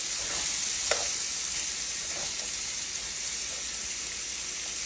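Vegetables fry in olive oil in a skillet, giving a steady close sizzle with a few soft stirring clicks and scrapes.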